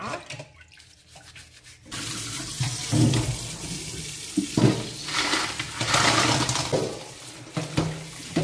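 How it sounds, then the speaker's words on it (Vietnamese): A kitchen tap runs water over freshly bought snails to rinse them, a loud, steady splashing gush that begins after a quiet moment and keeps spattering against the snails and basin. "Bây giờ mình xả nước nha các bạn nha."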